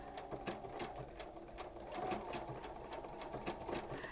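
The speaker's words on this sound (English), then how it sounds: "I'm just going to carefully stitch right along the edge" A sewing machine stitches a 1 millimetre wide stitch along the edge of embroidered fabric, its needle pattering in a fast, steady rhythm, quiet and close with no voices over it.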